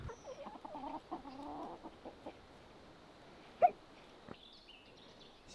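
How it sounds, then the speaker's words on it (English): A rooster crows in the distance, a drawn-out call over faint outdoor background noise, followed by a short sharp sound. "we need to go secure the gate for the chicken house because the cock has arrived"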